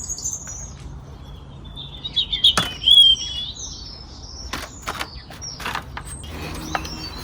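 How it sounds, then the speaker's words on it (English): A bird at an allotment sings in short, high chirps and trills, with a few brief flutters and faint clicks over a soft outdoor hush. "Bird is singing beautifully for us."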